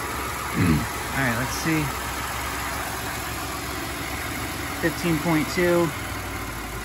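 The engine of a Ford F150 pickup with twin turbos idles steadily in the background throughout, a constant low rumble under a man's short spoken remarks.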